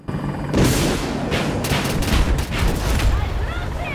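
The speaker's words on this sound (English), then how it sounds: "A tow hit followed by 127mm rockets vaporizes them" Apache helicopter firing a TOW missile and 127mm rockets in Battlefield 2042, a near, loud run of booming launches and impacts that roll on as continuous heavy blasts with rapid repeated cracks, sustained for the whole span.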